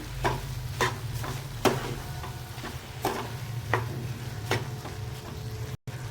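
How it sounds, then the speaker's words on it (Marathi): Sugar being stirred into carrot halwa, a spoon scraping the pan in irregular knocks and strokes over a low background hum and gentle sizzle, close and fairly quiet. "साखर हलवून घ्यायची"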